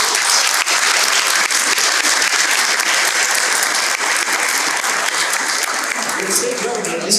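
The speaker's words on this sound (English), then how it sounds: "Let's give them a round of applause." A big outdoor crowd at a stadium opening ceremony gives a sustained, loud, dense round of applause that holds steady throughout, with faint voices mixed in.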